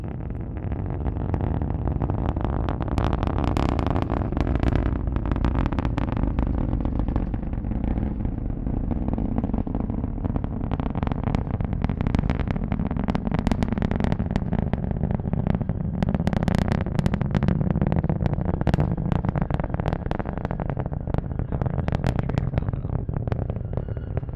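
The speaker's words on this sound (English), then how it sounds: "Let's listen to the roar of those 9 Merlin 1D engines." A continuous, loud, crackling roar of the nine Merlin 1D engines of a SpaceX Falcon 9 rocket during launch from Cape Canaveral, Florida, steady and heavy throughout with rough rumbling texture.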